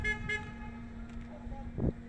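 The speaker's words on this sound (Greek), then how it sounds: "αυτός γιατί κορνάρει?" A car horn toots a few short blasts near the AEK stadium construction site in Agia Sophia, with traffic noise and a hum underneath and faint voices nearby.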